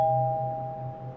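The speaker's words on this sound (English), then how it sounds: "when I suddenly heard the doorbell ring" A single doorbell chime rings out, its steady electronic tone holding and slowly fading over about a second, with nothing else around it.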